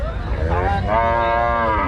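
A cow at a cattle market in Rajshahi lets out a single drawn-out moo, close and clear over a low background murmur.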